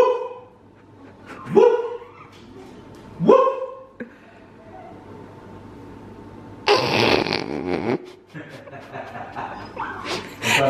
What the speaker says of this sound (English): they do bark